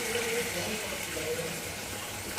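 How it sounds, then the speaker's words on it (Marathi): Water pours steadily into a pot of Konkani prawn curry, onto spice paste roasted in oil, for a couple of seconds, a soft continuous trickle ending in a brief clatter. "तर आपण पाणी टाकून घेऊया"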